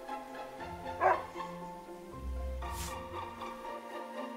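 A dog in the video game Another Code Recollection gives a short yip or bark amid soft background music, followed by a low rumbling stretch and a brief airy burst.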